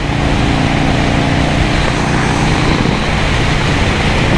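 A 1984 Harley-Davidson FLT Tour Glide cruises in fifth gear on a highway, its engine a steady, loud, close drone blended with road and wind rumble, with no break across the stretch.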